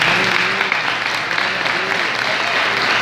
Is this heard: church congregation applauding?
yes